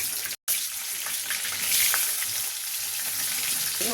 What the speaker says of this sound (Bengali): এখন আমি বাকি পনিরটাও আবার দিয়ে দিচ্ছি ভাজার জন্য।